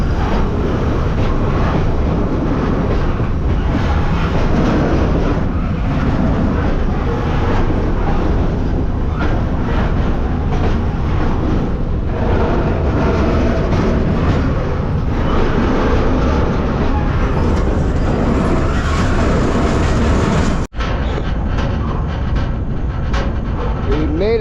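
A train runs along railway tracks with a loud, steady rumbling roar that fills the whole stretch, broken by a brief cut near the end, with some voices mixed in.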